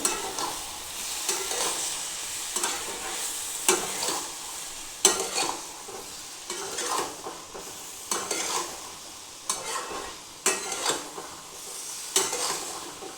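A spoon stirs papaya and chana dal curry in a pan, with repeated scraping strokes and soft sizzling, several bursts spaced a second or two apart, close and clear with no talk.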